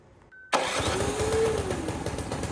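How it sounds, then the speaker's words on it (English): A Powersmart 212cc engine on a 26-inch self-propelled snow blower fires up on its electric starter after a faint whir, then settles into a loud, close, steady running rumble. "I'm going to plug it in and press this red button to start the engine."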